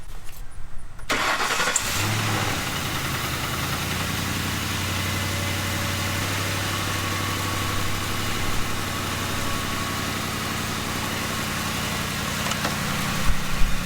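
A 2005 Ford Crown Victoria engine cranks briefly on a portable jump starter, then catches and settles into a steady, loud idle that continues close by with no talk.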